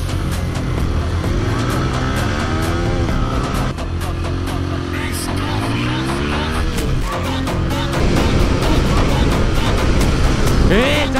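A Yamaha R15 M and a TVS Apache RTR 160 drag racing on a track, their engines revving hard with rising and falling pitch, loud and close, under steady wind noise.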